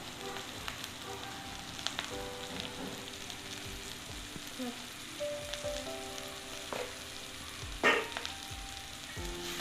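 Onions sautéing in a pan for a yam dish give a continuous crackling sizzle, with occasional spoon scrapes and a brief louder clink near the end; no voices.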